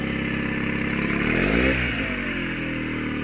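Yamaha 8hp outboard motor running steadily in forward gear, a close, even buzzing drone that dips and shifts tone briefly as the gear changes.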